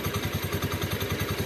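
A small Honda Beat scooter engine runs steadily with a fast, regular rattling clatter from its CVT pulsing through it, close by and with no voices.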